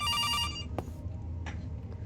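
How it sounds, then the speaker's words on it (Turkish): In the horror video game September 2, a telephone rings with a bright harmonic trill that cuts off after about half a second, leaving quiet room tone with faint clicks. "Telefon çalıyor."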